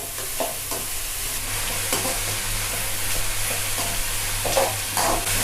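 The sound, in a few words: onions stirred and frying in a pan for prawn sambal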